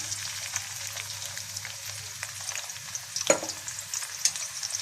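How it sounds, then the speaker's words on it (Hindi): Steady crackling sizzle of onions frying in hot oil for pulao, close up, with a low hum beneath and a couple of brief clinks and spatters. "तो तेल मैंने पहले ही गर्म करने के लिए रख दिया था। इसमें मैं प्याज डाल देती हूँ।"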